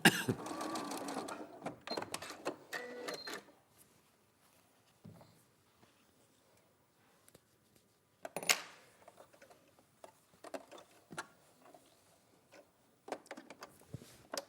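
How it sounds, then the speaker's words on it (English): A sewing machine stitching down the corners of a fabric piece with a 1 cm seam allowance, whirring in a steady burst at first, then in short stop-start runs separated by quiet pauses. "we're going to sew down each corner there"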